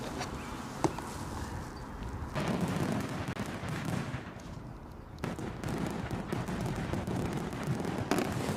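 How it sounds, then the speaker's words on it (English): A fireworks sound effect: dense, sustained crackling bursts and pops fill the whole stretch, with a few sharper bangs standing out and no voices. "so let's do the fireworks"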